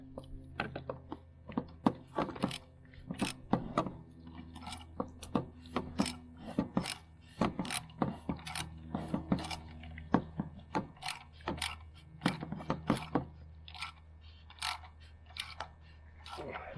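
Oil filter being tightened onto a Jeep JL/JT 3.6L engine during an oil change, heard as a series of close, irregular ratcheting clicks and clacks in short bursts under a low background hum.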